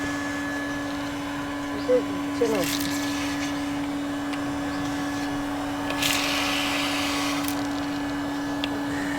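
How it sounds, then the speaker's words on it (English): A vacuum cleaner hums steadily and loudly while sucking rat droppings out of a dirty car engine bay, with brief rattling bursts as debris is pulled through the nozzle and a voice talking over it. "I am sucking all the poops out."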